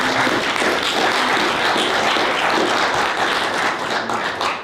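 Loud, sustained round of applause from an audience thanking a guest speaker after a talk, dense clapping from many hands filling the room without pause and with no voices on top.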